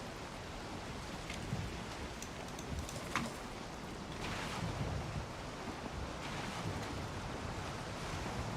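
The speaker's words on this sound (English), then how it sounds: "It's going to get rainy and stormy and dark and cold." Stormy weather in the survival game Valheim: a steady, dense wash of rain and wind noise that swells slightly midway, with no voices.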